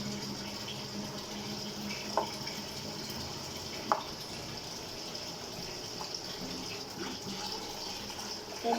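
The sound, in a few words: water running while washing a sink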